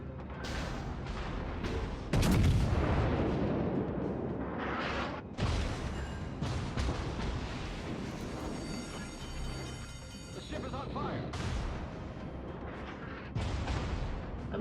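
Naval gunfire in World of Warships as the Mikasa battleship trades high explosive rounds: repeated heavy booming salvos with rumbling decay, loud and dense, without speech.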